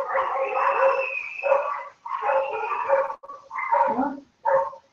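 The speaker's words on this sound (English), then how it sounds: "there's dogs barking" Dogs barking outdoors on a warm day in Greece, with repeated uneven bursts of barks and yelps following one another at moderate distance and clearly audible without any speech over them.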